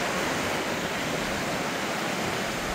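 Flowing water rushes outdoors among greenery, producing a continuous, even roar of broadband noise with no pauses.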